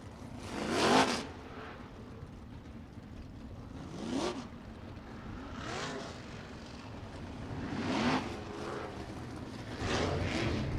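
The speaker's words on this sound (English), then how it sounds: "Sprint car hot laps just about ready to get going here." Sprint cars run hot laps at Kokomo Speedway, engines swelling loudly as each car passes close, then fading, with several passes across the stretch over a steady background roar.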